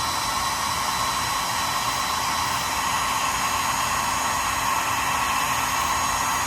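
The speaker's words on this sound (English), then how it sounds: "So I'm going to get the hair dryer." A hair dryer blowing steadily at close range over a carved wooden sandpiper blank, a constant whooshing hum with a faint whine, no breaks.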